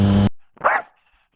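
A single short dog bark, close and fairly loud, from a little dog in the road, follows a brief tonal sound and then silence.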